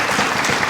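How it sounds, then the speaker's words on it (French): A short burst of dense audience applause in a studio talk-show setting, steady and close, with no other sound standing out. "Et je pense qu'on doit l'applaudir."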